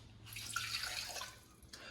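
Water runs briefly from a tap into a cup for a sfogliatelle filling, a quiet splashing stream that stops and then trickles again, with no talking.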